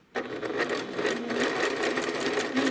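Sewing machine running continuously while stitching a seam on an AccuQuilt Winding Ways quilt block, a close, steady rapid whirring that starts abruptly and holds without pause.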